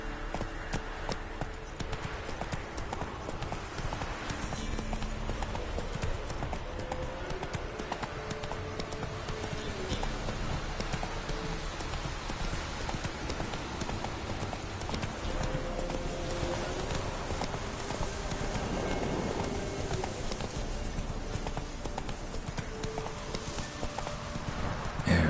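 Roach the horse galloping in The Witcher 3, hooves clip-clopping in a rapid, steady rhythm for the whole stretch under a wash of game ambience and music, fairly close and continuous.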